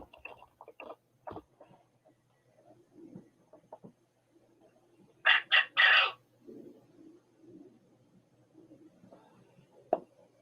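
Chickens cluck and murmur sporadically at a distance, with a short burst of three loud, sharp calls in the middle and quiet rustling between.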